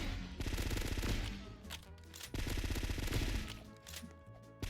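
Rapid automatic gunfire in a Roblox shooter game, two long loud bursts of fast shots separated by a brief pause, with a few shorter shots trailing off at the end; no talking.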